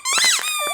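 A Light Up and Crunch Optimus Prime dog toy squeaks, one short, loud, close squeal that rises and falls in pitch, with nothing else heard.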